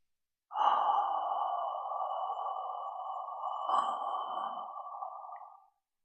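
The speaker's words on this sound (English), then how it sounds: "First, I breathe out slowly." A slow, exaggerated exhalation, one long steady breath pushed out through the mouth for about five seconds, close and clear, with a slight surge partway through before it tapers off into silence.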